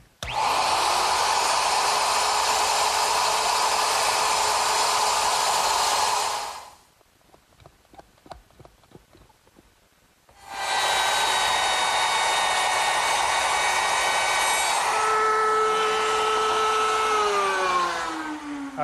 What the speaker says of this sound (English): so I'll complete the cut with my router